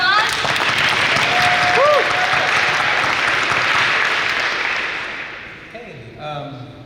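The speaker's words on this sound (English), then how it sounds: "Let's give her a round of applause" An audience at a training session breaks into sustained applause, a dense wash of clapping that fades out toward the end, with a brief voice underneath.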